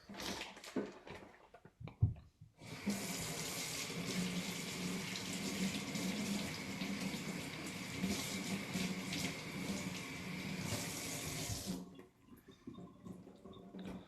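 Tap water runs steadily for about nine seconds, rinsing brined pork, with a broad rushing hiss, starting and stopping abruptly, preceded and followed by faint handling clatter.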